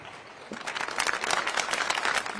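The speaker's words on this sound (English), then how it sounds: "A round of applause for the DJ." An audience at a National Orientation Agency sensitisation event in Nigeria breaks into applause for the DJ, starting thin and quickly building into dense, steady clapping that holds for a couple of seconds.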